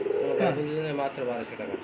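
Pigeons coo in soft, repeated throaty calls at a pigeon seller's stall, close by and fairly quiet, continuing alone for under two seconds.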